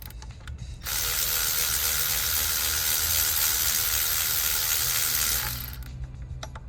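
Ratchet loosening a bolt during spark plug replacement on a 2008 Nissan Pathfinder LE V6, a dense steady run of close, loud clicking that lasts several seconds and then stops.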